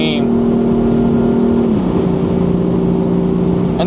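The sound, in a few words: 2018 BMW M4 engine revving under acceleration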